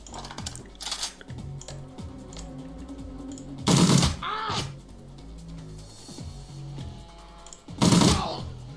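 Submachine-gun bursts in the Shadowrun Returns video game: two loud, dense rattling volleys stand out clearly over a softer stream of game sound effects and music.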